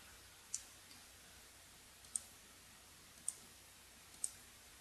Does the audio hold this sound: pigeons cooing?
no